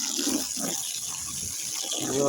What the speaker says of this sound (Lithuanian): pildosi greitai. Kibiras. Švarus jau gražus vanduo.